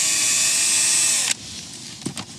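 A power driver fitted with a Phillips bit buzzes steadily on a plastic fastener, then cuts off abruptly, followed by a couple of light clicks and handling noises.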